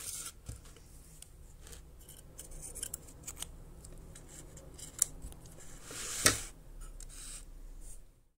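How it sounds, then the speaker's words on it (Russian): Scissors snipping threads off a beaded bracelet made on a homemade loom, a series of small close dry clicks and snips with light handling rustle, one brighter metallic cut near the end. "мы можем использовать ножницы для того, чтобы срезать нити с обеих сторон"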